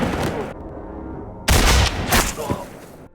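Gunshots ring out in a Western film as a man is gunned down from a distance: a loud burst followed by a second sharp report and fading echoes, after a stretch of quieter dialogue and music.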